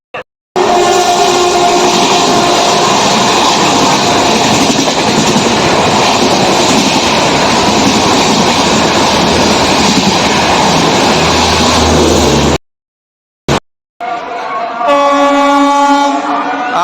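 Gomati Express hauled by a WAP-7 electric locomotive rolls into platform 2 at Etawah station. The train's loud rumble and clatter run continuously, then cut out briefly before a fainter horn-like tone sounds near the end.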